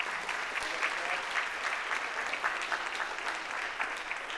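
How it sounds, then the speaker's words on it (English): An audience at a high school spring concert applauds the stage band students, a steady, fairly distant crowd clapping with no talk over it, holding even throughout. "one round of applause for the wonderful stage band students"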